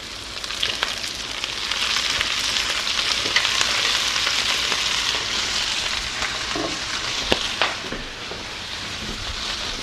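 Collard greens sizzle steadily in a hot pan after red wine and vinegar, a dense crackling frying hiss that holds at a constant level for the whole stretch with occasional sharper pops and stirring clicks.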